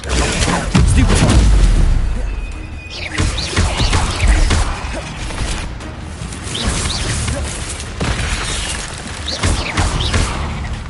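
Stupefy spell cast in Hogwarts Legacy, heard as a loud, booming magical blast with crashing impacts that stands out among dense game effects and carries on to the end.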